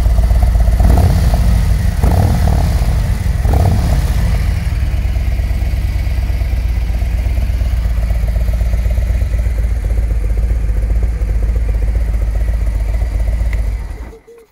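A loud idling engine fitted with two silencers burbles with a few quick throttle blips early on, then settles into a steady low rumble before cutting off abruptly.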